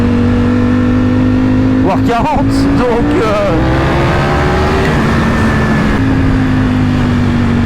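A Ducati Panigale V4S motorcycle engine revs hard and climbs through gear shifts, a loud, throaty roar rising and dropping in pitch with each change, while a voice speaks over it.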